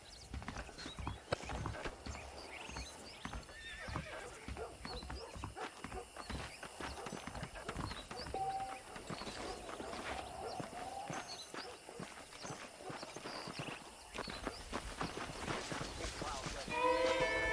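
Horse hooves clip-clopping steadily in a Western video game, a continuous rhythmic trot under a voice with ambient game background.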